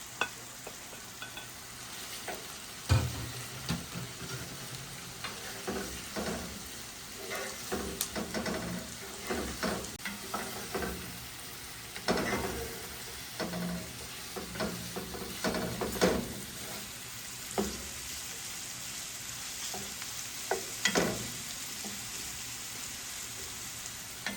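Food fries gently in a pan before buckwheat is added, a quiet continuous sizzle broken by scattered louder pops and scraping stirs.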